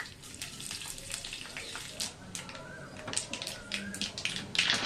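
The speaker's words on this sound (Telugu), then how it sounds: "తాలింపు బాగా వేగిపోయింది ఫ్రెండ్స్" Dried red chillies and black pepper crackle and sizzle in hot oil, a busy spattering hiss with sharp pops scattered throughout, close and fairly quiet.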